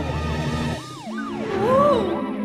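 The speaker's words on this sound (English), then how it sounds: "Here comes the ambulance bus." An ambulance siren wails with a rising and falling tone, loud and close, over traffic rumble, with overlapping siren sweeps toward the end.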